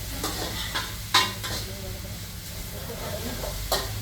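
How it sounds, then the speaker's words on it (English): Vegetarian pad see ew noodles being stirred and tossed with sauce in a hot pan, with a low background sizzle and several sharp utensil scrapes and clacks spread across the moment. "Try to separate the noodle. You want to make sure the noodle gets the juice. Get the sauce. And now you mix it with the sauce."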